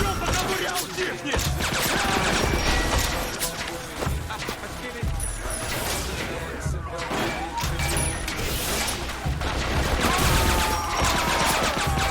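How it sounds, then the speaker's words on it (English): Suppressed M4 rifle fire in the game 50 Cent: Blood on the Sand, a dense chaotic mix of muffled shots, impacts and crashes running continuously and loud throughout, with combat clutter layered over it. "My favorite guns were the silenced M4. I mean, listen to this thing."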